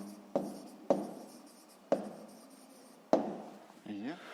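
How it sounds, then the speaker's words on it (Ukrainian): An answer to a sixth-grade math problem being written down by hand: four distinct, crisp strokes spaced unevenly and close by, followed by a brief murmur of sound at the end. "Пишемо відповідь"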